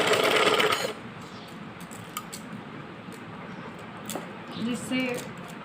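A sewing machine stitches cloth for a kachli bodice, whirring loudly for about the first second before settling into a steadier, quieter running hum with a few light clicks.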